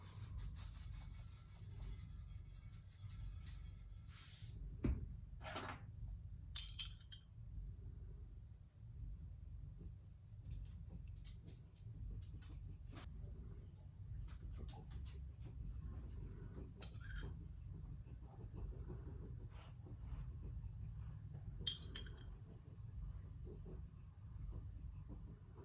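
Copper pot being scrubbed with vinegar and salt: a faint, steady rubbing under low rumble, broken by a few sharper scraping strokes, with no talking.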